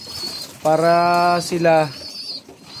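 Pigeons cooing in a fancier's loft, two throaty rolling coos up close, with a faint high whistle-like tone running through and a brief spoken word in between.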